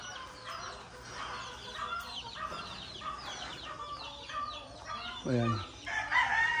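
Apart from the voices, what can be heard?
gamecocks (fighting roosters) crowing and clucking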